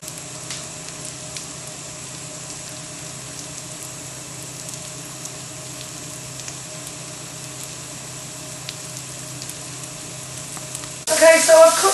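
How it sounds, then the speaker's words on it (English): Steady sizzling of pork chops frying in a pan, a constant hiss throughout with a brief clatter near the end. "we're going to place the pork into the frying pan, and we're just going to fry that off"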